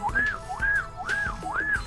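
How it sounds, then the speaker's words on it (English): A clear, repeated whistle in Grand Theft Auto V rises and falls in a looping pattern, four times in a row, steady and fairly close over low background rumble. "I think it was a kid whistling."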